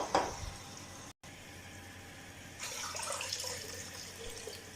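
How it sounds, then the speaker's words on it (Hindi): Water splashes and pours steadily into a pot of rice for jeera rice, with a brief clatter at the start and a fuller pouring rush building in the second half. "तो यहाँ पे अब हम डालेंगे पानी।"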